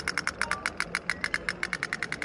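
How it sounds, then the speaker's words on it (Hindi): A small handmade toy boat driven by steam, with a flame burning inside it, chugs close by at a science festival, giving rapid, evenly spaced popping pulses that repeat steadily without pause. "ये बनाया हुआ देखो बोट, ये स्टीम से चल रहा है, इसमें आग बल रही है"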